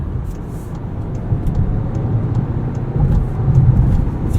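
A 2017 Volkswagen Golf Alltrack TSI SE manual wagon accelerates up a highway entrance ramp, its engine and road noise forming a steady close drone that swells slightly louder toward the end, with no talking.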